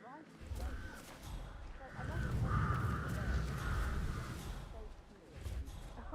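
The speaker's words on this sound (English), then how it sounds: "Damn birds! If I could just get a clear hit on those nests." Crows caw around their nests in the Hitman video game, a noisy flock of harsh calls layered over a dense rumbling background throughout, with no speech.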